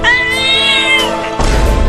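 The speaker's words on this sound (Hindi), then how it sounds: "ये सब छोड़ो और इन बिल्लियों को भगाओ।" A cat lets out a loud, long, wavering meow close by, fading into a rougher noisy burst at the end.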